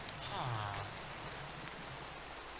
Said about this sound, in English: Is it raining out?